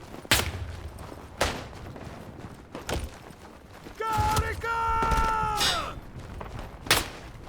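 Scattered gunshots in the World War I shooter Isonzo on the Marmolada mountain map, with several sharp cracks spread apart and a sustained tonal rumble in the middle, probably distant fire across a large multiplayer battle.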